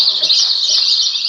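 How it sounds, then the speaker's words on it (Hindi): Small birds chirp in a dense, high, continuous twitter, loud and steady throughout with a brief faint lower call beneath. "ये आवाज तो चिड़िया चुनमुनी सब का है।"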